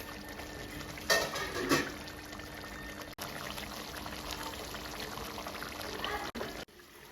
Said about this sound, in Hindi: पानी की जगह इसमें हम दूध डालेंगे